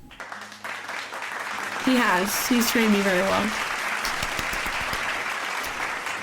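An audience claps steadily for a moment of thanks during an online art class. The clapping is a fairly loud, continuous wash that starts partway in, with someone talking over it throughout.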